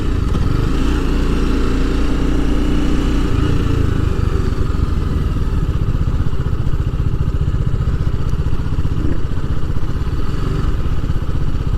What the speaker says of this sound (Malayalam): കുറേ ബൈക്കേഴ്സൊക്കെ വന്നിട്ടുണ്ട്.